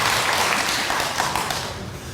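Applause from a church congregation at an evening prayer gathering, a steady wash of many hands clapping that holds fairly even and then thins slightly toward the end, with no talk over it.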